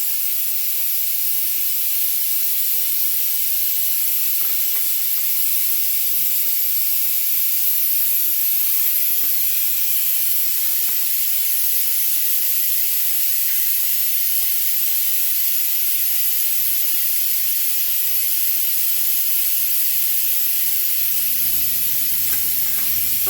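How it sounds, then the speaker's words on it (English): A suction hose drawing old fluid out of a vehicle's rear differential gives a steady, loud, unbroken hiss that runs evenly throughout with no talking. "not only are we sucking out the old fluid, we're sucking out dirt, we're sucking out contaminants"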